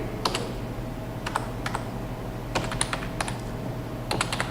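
Fingers typing code on a computer keyboard in uneven bursts of crisp, close key clicks over a low steady hum.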